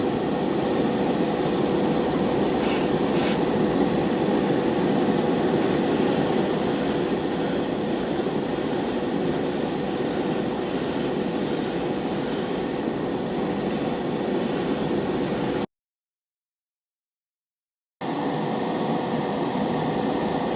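A Grex Genesis GSi spray gun hisses loudly and continuously as it lays a paint coat over black on spoons, with a short break of silence near the end before the spraying resumes.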